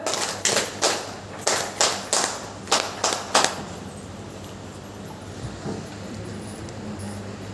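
Short burst of audience clapping at a community meeting, about eight to ten distinct sharp claps in an uneven run over the first few seconds, then fading to quiet room tone.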